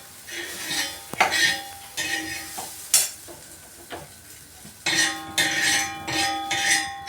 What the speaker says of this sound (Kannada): ಬೆಂಡೆಕಾಯಿ ಹುರ್ತಿದ್ದಾಯ್ತು ಇವಾಗ.